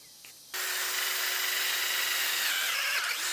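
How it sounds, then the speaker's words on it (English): A power drill with a 5/8 bit bores through a wooden post for a grape trellis wire, starting abruptly and then whirring at a steady high pitch, loud and close, with no talk. "you want to pre-drill through your post about 4 to 6 feet high using a 5/8 drill bit"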